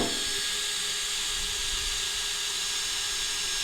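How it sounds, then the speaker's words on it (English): Power drill with a wood bit boring drainage holes in a metal planter: continuous high-pitched whining and hissing grind, steady and close, with no pauses. "I'm just using this drill bit, and I'm putting in 5 different drainage holes"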